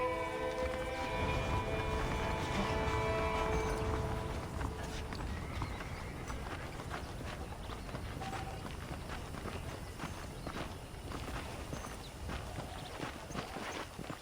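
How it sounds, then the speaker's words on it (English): Steady clip-clop of horse hooves walking in the video game Red Dead Redemption, a rhythmic patter over a faint outdoor background with no talking. "The horses are saddled up over here."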